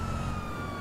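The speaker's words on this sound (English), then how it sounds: "you turn on the sirens on a cop car, it goes faster" A police car siren in a video game gives a steady, loud electronic wail that holds a constant pitch through a brief burst, with no voices over it.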